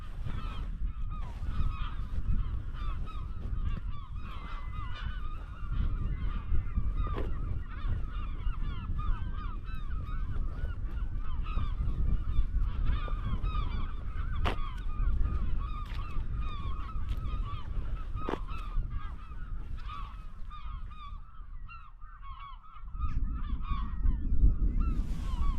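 Hundreds of birds honk together in a large flock on the coast near Durdle Door, a constant, busy chorus of overlapping calls that stays fairly loud throughout, with no talking.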